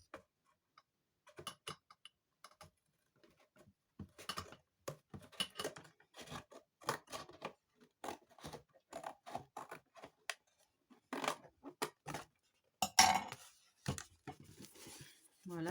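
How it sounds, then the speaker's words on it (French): Scissors cut through shoe-box cardboard in a series of short, uneven snips and crunches, close up and fairly quiet, with brief pauses between cuts. "Alors, je vais essayer de couper au ciseau. Comme c'est du carton."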